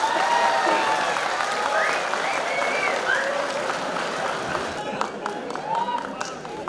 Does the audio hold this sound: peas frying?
no